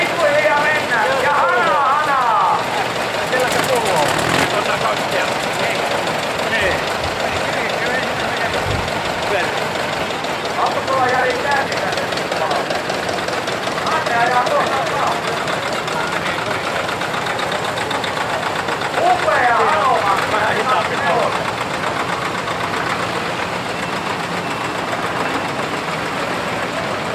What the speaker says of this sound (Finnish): täällä on mahtava traktoriparaati. Nyt on ennätysmäisesti traktoreita tästä paraatista. Ja kaikki koneet käyvät